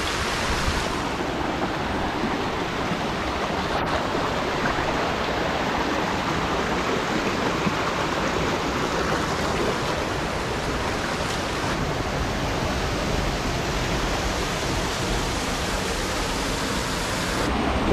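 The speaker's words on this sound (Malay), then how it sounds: "Ini sungai." A steady, loud rush of a river and waterfall flowing inside a hidden jungle cave, a dense unbroken roar of water that stays even throughout with no voices.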